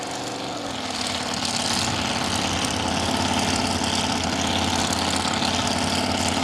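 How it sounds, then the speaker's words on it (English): A 1969 dragster with an 8-cylinder Chrysler 383 engine holds a loud, steady, heavy rumble at a drag strip, the engine noise rising slightly after the first second and then staying constant. "1969 dragster, 8-cylinder Chrysler 383"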